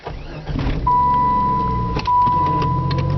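A car with a failing torque converter pulls away, its engine rumbling loud and close while a steady high whine rises and holds as it starts to drive.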